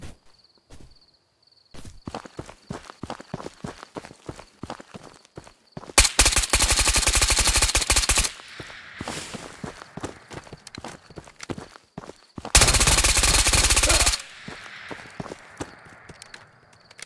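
Gunfire in the Ghosts of Tabor shooter, with scattered close single shots and two long, loud automatic bursts of several seconds each.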